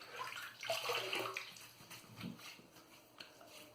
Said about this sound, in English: let's wet my face to start off